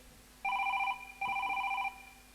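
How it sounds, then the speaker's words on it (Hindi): Two bursts of a mobile phone ringing in a home during a Chhattisgarhi comedy play, a bright repeating trill, fairly loud and close, separated by a short pause. "देख तो काकर फोन है"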